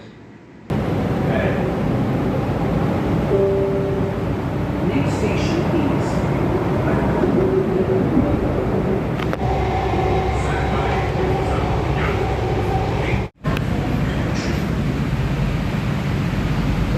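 A Delhi Metro Violet Line train pulls into Badkal Mor station with a steady, loud rumble and hiss from inside the carriage, holding for most of the stretch, then cutting off sharply for a moment near the end.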